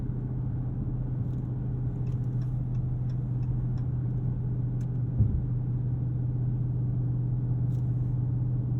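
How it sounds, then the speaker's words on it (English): Inside the cabin of a Dodge Charger Scat Pack Widebody at road speed, the HEMI V8 hums as a low, steady drone. Faint wind noise rides above it, and the overall level stays quiet with no talking. "you get a little of a HEMI and a faint bit of wind noise, but the cabin volume is low"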